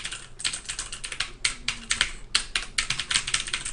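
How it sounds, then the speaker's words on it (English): Rapid clicky keystrokes on a mechanical keyboard, bursts of typing with brief pauses, close and crisp. "you can kind of hear it typing. This is a mechanical keyboard"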